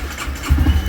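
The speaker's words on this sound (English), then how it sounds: "So to start this, you're just gonna thumb this." A 2015 Honda CBR 300R, fuel-injected with a stock exhaust, is thumb-started: a short crank catches halfway through into a low, quiet idle rumble.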